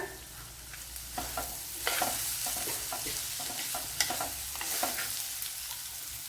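Leftover puttu and tomato stir-fried in a pan give a steady sizzle, cut by repeated scraping strokes of a spoon against the pan, close and fairly loud with no talking.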